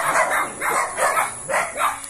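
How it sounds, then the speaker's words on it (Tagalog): Dogs barking on a farm lot in Laguna, a run of four or five loud, close barks in an uneven rhythm, with no talk over them. "Ang aso, mga kulit."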